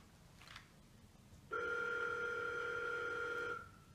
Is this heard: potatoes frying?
no